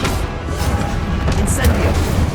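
Confringo explosive spell blast from the Hogwarts Legacy video game, a steady dense rumbling burst with bright crackling flares, loud and close, continuing without pause through the whole moment.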